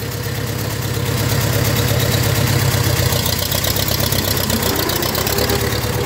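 A tractor fitted with a snow plow runs its engine close by, a loud steady idle with a rapid rhythmic knock that swells slightly and holds.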